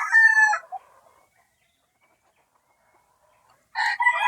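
A rooster crows loudly and close by, once at the start and again at the end, with near silence between the two calls and no talking.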